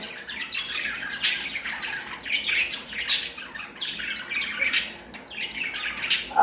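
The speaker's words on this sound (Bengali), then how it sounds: "বুলবুলি, বুলবুলি, বুলবুলি আওয়াজ।" A bulbul gives harsh, squawking calls in several bursts about two seconds apart. The calls are close and fairly loud over a steady outdoor background, and no one speaks.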